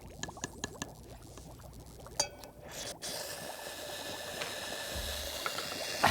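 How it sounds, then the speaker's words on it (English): A small piece of sodium reacting in water: a few sharp pops and clicks at first, then a continuous fizzing, bubbling hiss that grows steadier, with a final crackle at the end. "watch what happens when we put just a small piece of sodium in water."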